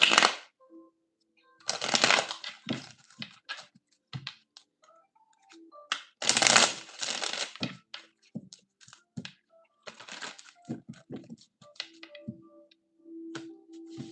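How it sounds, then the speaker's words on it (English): A deck of cards shuffled at a table, with intermittent bursts of rapid riffling and soft clicking snaps separated by quiet gaps, close and fairly faint. "I've been at this table shuffling cards for the past hour and a half"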